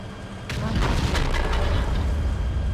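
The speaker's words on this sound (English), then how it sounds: "Now, I am going to shoot you with the heat round out of this gun." A HEAT round fires from an E-100 tank gun in a video game, a single sudden boom after a short quiet lead-in, followed by a rumbling, crackling tail that carries to the end.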